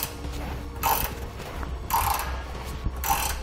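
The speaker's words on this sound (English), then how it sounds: "Then on the back side, we'll tighten up the nut that we removed in the first step." A ratchet socket wrench clicks as it tightens a nut on a tie-down mount on a 2016 Toyota Tundra, with three distinct bursts of ratcheting separated by short pauses, close and clear with no talk.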